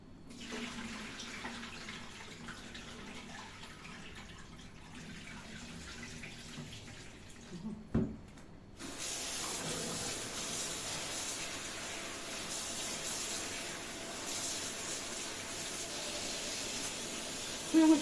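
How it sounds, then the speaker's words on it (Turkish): Water from cooked spinach poured out of a pot in a home kitchen: a quiet start, then a loud, steady rushing pour close by, with no talking. "Şimdi bu suyunu dökelim."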